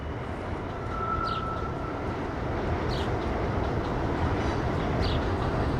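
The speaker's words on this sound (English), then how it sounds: "train in the distance with the wheels squealing." A train rumbles at a distance in a steady, broad low roar, with a faint thin wheel squeal rising briefly early on and a few soft high screeches recurring.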